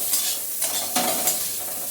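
Jujube chutney is sautéed in a pan with sugar, a little oil, salt and turmeric, giving a soft continuous sizzle broken by four evenly spaced scraping stirs, close and without talk.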